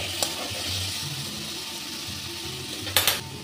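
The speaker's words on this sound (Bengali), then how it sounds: "আমি কড়াইয়ে অল্প একটু তেল দিয়ে নিয়েছি। আর খুব ছোট ছোট করে কেটে নিয়েছি আলু" Two small diced potatoes frying in a little oil in a wok, a steady close sizzle throughout, broken by two sharp clinks of a utensil against the pan.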